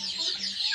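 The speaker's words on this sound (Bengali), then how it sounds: "সরাসরি দেখেন টার্কি মুরগি। এগুলো কিন্তু অরিজিনাল টার্কি মুরগি।" Turkeys, one white and one black among four birds, cluck in short, close, rising calls against a faint background hum.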